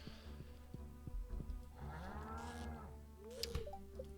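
A cow moos in a Stardew Valley farm game, one long drawn-out low call rising and falling over a steady background music loop with soft game chimes.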